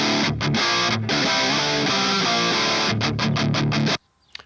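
Heavy distorted electric guitar chugs through a Rectifier cabinet simulation miked with an SM57 in Wall of Sound, loud palm-muted riffing with brief stops, then cutting off abruptly into near silence.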